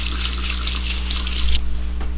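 Water gushes from a household faucet in a broad, loud hiss, then shuts off abruptly, leaving only a low background hum.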